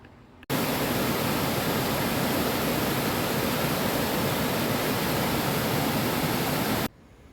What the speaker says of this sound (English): The River Yo flowing just down there.